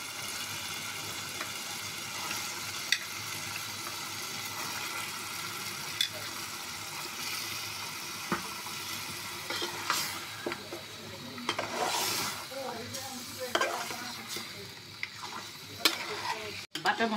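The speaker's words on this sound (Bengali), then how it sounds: "এখন আমি মাংসটা দিয়ে দেবো" Mutton pieces sizzling and being stirred through a fried spice paste in a pan for a fiery goat curry, a steady close crackle with scraping stirs and occasional utensil clinks.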